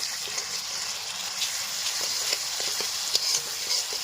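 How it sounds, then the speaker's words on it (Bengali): Ginger and garlic paste frying in hot oil with chopped onions for chicken samosa filling, a steady close sizzle with light stirring taps over it, heard alone with no voices. "পেঁয়াজ কুচি ভাড়াটা হয়ে গেছে এবার দিয়ে দেবো আদা বাটা রসুন বাটা এবার দিয়ে এটা কিছু ভেজে নেবো"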